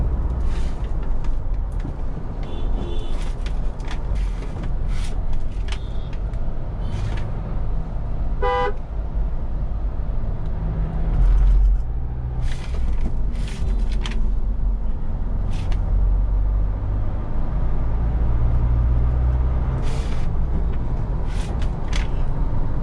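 Mahindra Thar petrol manual cruising in fifth gear on a beach, with a steady low engine drone and road noise throughout and short horn toots and clicks breaking in now and then.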